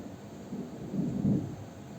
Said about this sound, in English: Thunder out there.